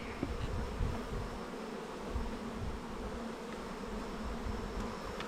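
Honey bees buzz in a dense, steady drone around opened hive frames during comb cleaning, a continuous close hum with no pauses.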